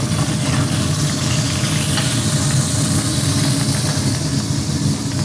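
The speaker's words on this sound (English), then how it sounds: "So the patty is done. We're gonna put it in the braising liquid." A cooked burger patty settles into hot braising liquid, giving a steady, loud, close sizzle and bubbling that carries evenly throughout with no talking.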